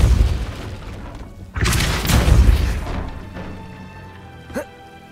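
Depulso spell cast in the video game Hogwarts Legacy: a loud, sharp boom bursts out and rumbles for over a second, fading into a hum before a brief faint whoosh.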